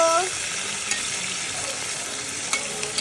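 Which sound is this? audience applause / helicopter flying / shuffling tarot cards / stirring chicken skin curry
stirring chicken skin curry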